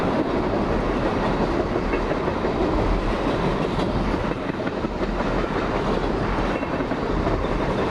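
A Union Pacific freight train, locomotive UP 8739 westbound, rumbles steadily past close by, with continuous loud clattering of wheels on rails filling the whole stretch.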